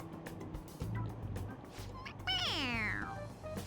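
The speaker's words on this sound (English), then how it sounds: "Yeah, it's just a toy. It meows when you press on its head." Stuffed toy cat in Persona 5 Royal gives a single clear, drawn-out electronic meow when its head is pressed, rising then falling, over quiet game background sound.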